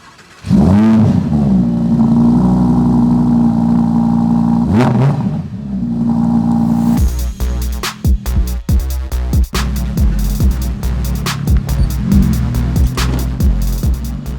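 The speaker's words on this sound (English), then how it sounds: "we're going to do a cold start to see what it sounds like" A Lamborghini Urus engine, remapped, cold starts: it cranks and roars to life with loud revs, then drops into a rough, clattering idle.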